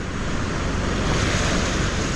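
Ocean waves wash and churn around a small wooden outrigger boat out at sea, a loud, steady, broadband roar mixed with wind buffeting the microphone.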